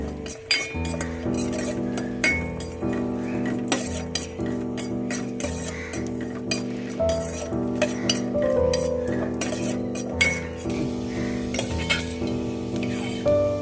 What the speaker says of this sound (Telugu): ముందుగా జీడిపప్పు, కొంచెం కిస్మిస్ వేయించుకుని పక్కన పెట్టుకోవాలి.